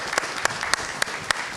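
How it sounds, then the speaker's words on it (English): Audience at the 2024 USA Memory Championship applauding competitors: steady, dense clapping from a crowd with sharper bursts recurring roughly every quarter second, moderately loud throughout. "Let's give them a round of applause here."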